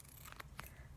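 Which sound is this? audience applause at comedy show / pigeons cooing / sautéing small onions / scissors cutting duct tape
scissors cutting duct tape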